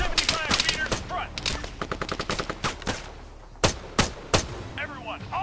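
Rapid gunfire and machine gun bursts in the military shooter game Arma 3, with sharp repeated shots and short automatic volleys at close range, mixed with brief shouted voices.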